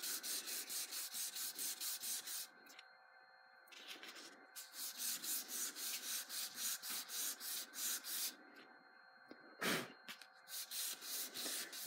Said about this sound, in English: And I want to sand until all of the grinder and 220 grit lines are erased.